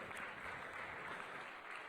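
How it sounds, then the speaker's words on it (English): Dense, faint applause from an audience at the F1 in Schools World Finals knock-out competition in Singapore, a continuous wash of clapping heard alone at a distance. "Round of applause, ladies and gentlemen, for all our pit displays."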